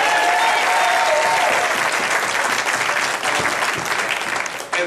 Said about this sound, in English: just ask another round of applause for our next U.S. Senator, Jim Martin